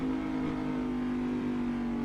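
A race car's engine drones steadily at high revs on the Road Atlanta circuit in Assetto Corsa, a sustained near tone with no break and no voices.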